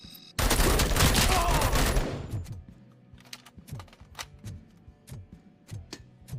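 Heavy automatic weapon fire in RoboCop Rogue City, a loud sustained burst for about two seconds, followed by scattered sharp clicks and lighter shots with quieter gaps.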